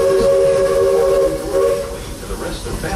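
Magic Kingdom railroad steam train at the station sounds its whistle, a loud sustained multi-tone blast with hissing steam, fading slightly toward the end.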